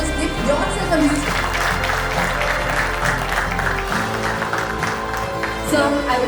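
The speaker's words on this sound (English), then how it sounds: "Please give them a huge round of applause, guys" An audience applauds at an engine-powered generator launch event, steady sustained clapping filling the hall while a voice speaks over it through a loudspeaker.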